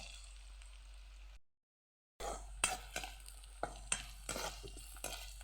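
Onions frying in a pan sizzle softly while a utensil stirs them, with repeated scraping clicks after a brief gap of silence.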